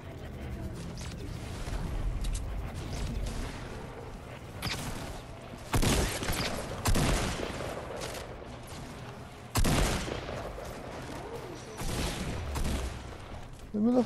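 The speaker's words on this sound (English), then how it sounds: "Oh, they're shooting!" Gunfire in an online shooter match: scattered bursts of rapid shots and sharp cracks, some close and loud, others more distant, with voices talking over parts of it.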